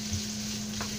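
Onion, ginger and spices sizzle steadily in a hot pan while being stirred, a close, continuous frying hiss with a soft scrape of the spoon partway through.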